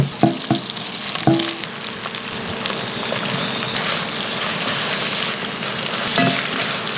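Shrimp shells, celery and rough-chopped onion with the skin on sizzle and crackle steadily in butter in a hot pan, with a few clanks of stirring and no voices.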